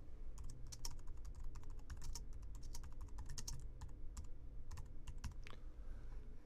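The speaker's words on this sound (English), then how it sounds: "Then begin typing your thoughts on the subject matter." Rapid, continuous typing on a computer keyboard, the key clicks close and steady with irregular bursts throughout, no voices.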